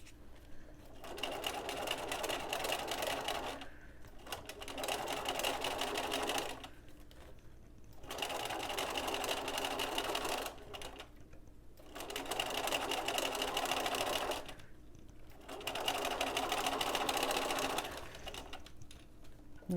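A sewing machine stitches a zippered head cover in five bursts of rapid whirring of a few seconds each, separated by short pauses, close and fairly quiet.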